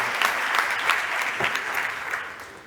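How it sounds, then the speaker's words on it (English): Audience at a startup competition stage applauding loudly and steadily, a dense wash of clapping that fades slightly toward the end with no talk over it. "Big applause to Bosco."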